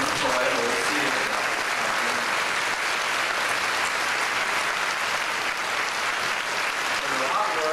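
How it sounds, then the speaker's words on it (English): Sustained applause from a crowd at a school speech day, steady and fairly loud throughout, with a few voices faintly audible underneath the clapping. "receive a big round of applause from your students"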